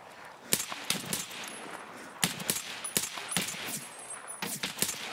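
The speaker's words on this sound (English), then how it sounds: "Is that a scav shooting me?" Gunfire in the video game Escape from Tarkov from a scav shooting, rapid irregular bursts of cracking shots, some loud and close, others fainter, in uneven clusters across several seconds with no talk.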